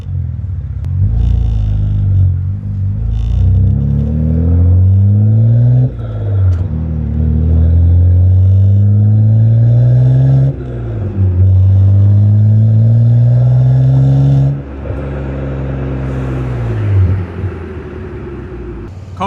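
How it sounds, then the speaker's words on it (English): BMW G80 M3 fitted with an IRL exhaust, valves closed in comfort mode, revving repeatedly with a deep, loud rising-and-falling drone, close up. "I should actually close the valves and you guys can hear valves closed"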